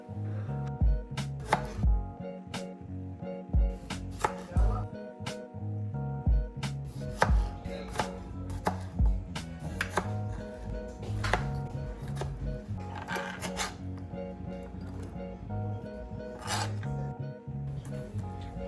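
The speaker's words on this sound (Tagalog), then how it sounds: "Tas nag-chop din ako ng kamatis. Maliliit na hiwa ng kamatis." Tomatoes diced into small pieces on a cutting board for homemade beef shawarma, a run of sharp, close knife chops in irregular bursts over a steady low background hum.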